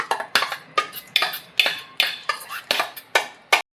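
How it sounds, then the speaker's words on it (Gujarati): Semolina dhokla batter goes into an oil-greased plate with a steady run of bright metallic clinks and scrapes as a spoon strikes the plate about ten times in an uneven rhythm, close and clear. "હવે એક થાળી મેં તેલથી ગ્રીસ કરીને રાખેલી છે તેમાં આપણે આપણું બધું મિક્સર ઉમેરી દઈશું"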